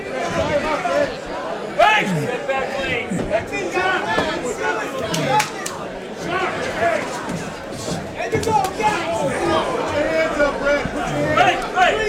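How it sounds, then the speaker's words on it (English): A lively crowd at an amateur boxing fight night keeps up a steady roar of chatter and cheering, with shouts and sharp bangs rising out of the dense babble throughout. "we got a really active crowd"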